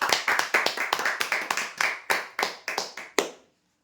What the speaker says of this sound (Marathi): टी टेबल काचचे विजेते जोरदार टाळ्या